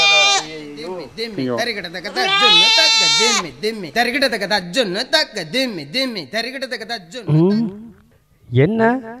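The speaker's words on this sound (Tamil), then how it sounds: "ஆட்டுக்குட்டியப்பா கத்துது பார்" A lamb bleats repeatedly in wavering, high cries, close and loud, with a person's voice mixed in.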